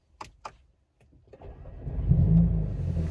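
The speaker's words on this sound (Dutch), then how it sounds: "Mijn eerste koude start na mijn nieuwe uitlaat." A lowered Mercedes-Benz CLA 35 AMG with a new exhaust does a cold start: a couple of clicks, a short crank, then the engine fires and settles into a loud, rumbling idle close by.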